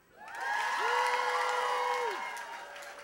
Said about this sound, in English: I need to hear a big, big round of applause.